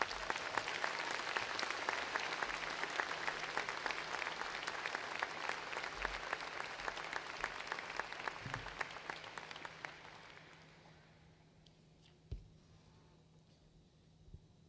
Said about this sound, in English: Can we please give Speaker Welch another round of applause for those words of wisdom?